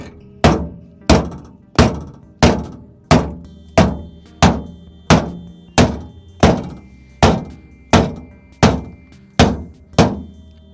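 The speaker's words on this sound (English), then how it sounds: "I need a bigger hammer." Heavy metallic thunks of a hammer striking a salvaged Tesla's body panel at an even pace, about fifteen blows, each ringing briefly before the next, loud and close.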